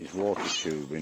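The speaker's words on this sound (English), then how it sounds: "That's a cat" A domestic cat meows in two drawn-out cries close to the microphone, overlapping a voice speaking at the same moment.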